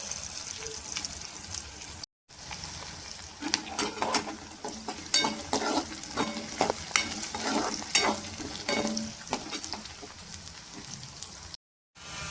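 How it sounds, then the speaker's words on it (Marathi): Cumin, onion and green chili frying in hot oil in a pan, a continuous sizzle broken by bursts of stirring and spoon scrapes, close and without talk, with two brief silent gaps. "आता जिरं टाकून घेते आणि कांदा टाकून घेतला आणि मिरची"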